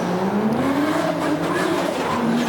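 A Toyota GT86 drift car with a 2JZ engine battles an RB-powered car at Mt Smart Stadium. Engines roar loudly and steadily throughout, with tires squealing under constant engine noise.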